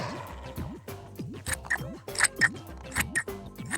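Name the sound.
scissors cutting folded card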